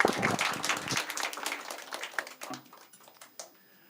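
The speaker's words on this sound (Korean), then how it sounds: "네, 그럼 우리 축하의 박수를 드리겠습니다." A church congregation at a Sunday worship service claps in congratulation, with a burst of applause that is strongest in the first second and then thins into scattered claps that fade out.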